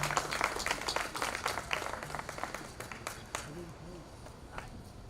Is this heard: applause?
yes